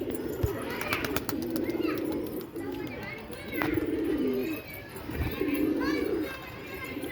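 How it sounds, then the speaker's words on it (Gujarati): Pigeons cooing in repeated low rolling phrases at a loft, coming in several bouts at moderate distance, with a few sharp knocks and light background noise. "કબૂતર જુઓ તમે બધા ઓકે થઈ ગયા છે"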